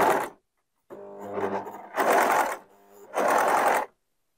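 An overlock sewing machine with full differential feed and stitch length set to 4 runs along a fabric edge in three loud, close bursts, separated by short pauses.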